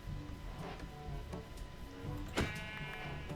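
A sheep in a survival video game bleats a few times amid soft background ambience, with one sharper, louder bleat standing out near the end.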